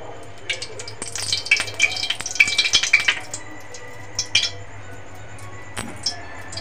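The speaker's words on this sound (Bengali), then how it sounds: "বাদাম ভাজা গরম তেলের মধ্যে দিয়ে দেবো একটু ঘি" Ghee is added to hot oil with peanuts frying in a pan, giving a burst of crackling sizzle and sharp clinks in the first few seconds, then a few scattered pops over a quiet hum.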